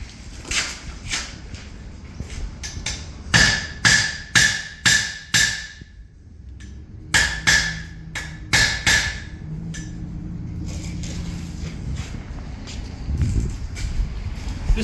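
Hammer blows shaping a forged dragon head ring out in two quick bursts of about five sharp metallic strikes each, close and loud, with quieter shop noise between.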